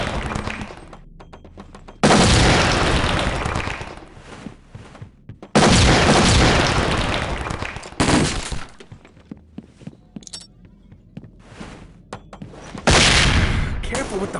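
Flashbang grenades going off during a SWAT 4 multiplayer match, loud sharp blasts with shattering bursts recurring several times, mixed with gunfire and a game radio voice.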